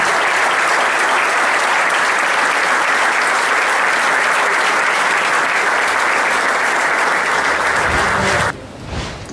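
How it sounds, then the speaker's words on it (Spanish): Loud, dense audience applause at the presentation of San Lorenzo's new stadium project, a steady roar of many hands sustained for several seconds before cutting off abruptly near the end. "Para todos ellos, un fuerte aplauso y el agradecimiento."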